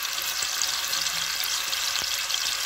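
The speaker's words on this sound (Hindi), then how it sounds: "तो ऑयल डाल के जैसे ये ब्राउन होंगे तो हम इसमें लहसुन और अदरक" Onions frying in oil in a pan for yakhni mutton pilau, with garlic and ginger going in, giving a steady, close hiss of sizzling with a few faint stirring clicks and no talk.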